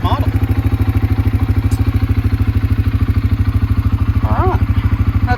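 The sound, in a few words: CFMoto CForce400 ATV engine idling at 1600 RPM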